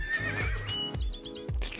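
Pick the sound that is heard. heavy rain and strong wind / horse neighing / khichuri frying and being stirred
horse neighing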